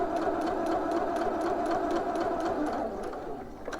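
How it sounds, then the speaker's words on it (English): A domestic sewing machine stitches fabric for a pair of shorts, running continuously with a loud, even motor whir and rapid needle clatter that slows slightly near the end, with no talking. "you want to pivot your fabric, and then stitch down that other line"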